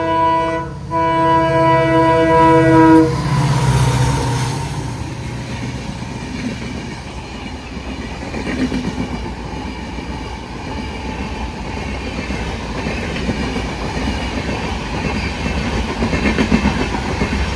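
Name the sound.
freight train hauled by Pune WDG4 twin diesel locomotives passing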